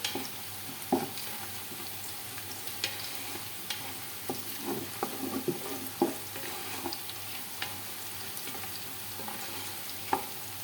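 Onions sizzle and fry in a pan for a large batch of biryani, with steady crackling and occasional stirring scrapes up close and no talk.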